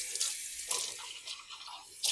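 A measuring cup rinsed under a running kitchen tap, with a bright hissing stream and splashing that shift as the cup moves, close up and with no talking.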